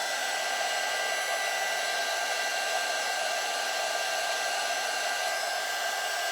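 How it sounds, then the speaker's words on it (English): A heat gun runs steadily at close range, warming and melting material in a continuous, even blowing roar that holds level throughout with no pauses or voices. "You could use your heat tool to heat this up."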